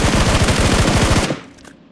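Rapid automatic gunfire from the PUBG Mobile game, a loud, dense burst of repeated shots for over a second that cuts off abruptly, leaving a faint tail.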